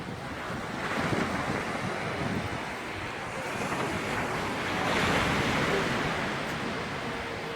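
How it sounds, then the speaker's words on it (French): Sea waves wash steadily onto the shore at the Calpe seafront, a continuous broad roar mixed with wind buffeting the microphone, swelling slightly midway. "Là, on arrive au bord de mer de Calpe."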